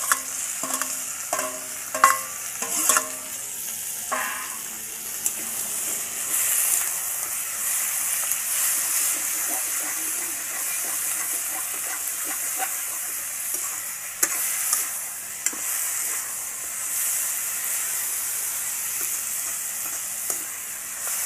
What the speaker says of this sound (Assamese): এতিয়া আমি ইয়াতে এড কৰি দিম মাংসখিনি আজি মই লোকেল চিকেন লৈছোঁ